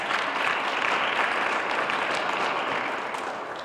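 An audience at an award celebration claps steadily for a few seconds, a dense wash of applause that stays strong before tapering slightly at the end.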